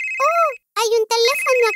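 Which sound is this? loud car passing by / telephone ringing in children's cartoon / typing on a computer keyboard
telephone ringing in children's cartoon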